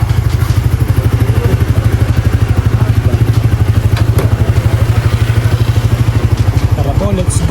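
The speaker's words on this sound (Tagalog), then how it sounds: "Ang bilis naman ang motor mo." A motorcycle engine runs with a rapid, even pulsing throb, loud and close throughout, with a slight clatter over the steady beat and voices briefly over it.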